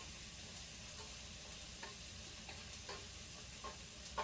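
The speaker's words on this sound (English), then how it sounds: "Onions starting to caramelize just a little bit" Onions sizzling softly as they caramelize in a pan for Cajun red beans and rice, a faint, steady frying hiss with a few light scrapes of stirring.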